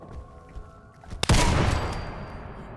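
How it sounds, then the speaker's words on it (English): An incendiary shredding minigun fires in Fallout 4, a faint background hum giving way to a sudden loud burst of rapid gunfire that roars on and slowly fades. "An incendiary shredding minigun. That's what you were shooting me with"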